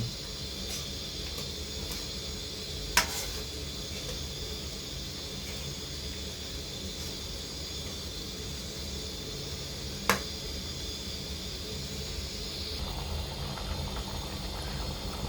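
Pork curry simmers in a pot with a low, steady bubbling hiss, quiet and close, broken by two sharp clicks a few seconds apart and no voices.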